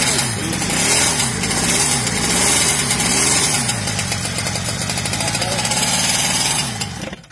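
An old twin-cylinder Mobylette moped engine runs after a long layoff, a close, loud, rapid rattling putter with some surging before it cuts out at the end, with voices talking over it.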